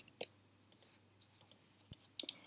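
A computer mouse clicks in a quiet room, with about seven short, crisp, faint clicks spaced irregularly, some in quick doubles, and no talk.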